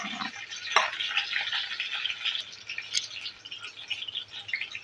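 Onions fry in hot oil with mustard and fenugreek seeds, a close, steady crackling sizzle with a sharp clatter as they hit the pan, then light stirring.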